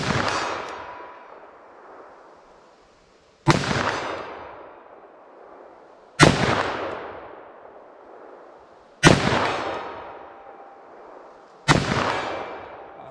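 Five loud gunshots from a .44 Magnum revolver with a 4-inch barrel firing Hornady Custom 200-grain ammunition, evenly spaced a few seconds apart, each sharp crack trailing into a long outdoor echo, with no talk.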